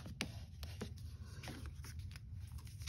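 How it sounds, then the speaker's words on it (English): A paper card base being folded and then burnished by hand, giving a run of brief crisp scrapes and rubs close up, with no talking. "Let me fold and burnish my card base."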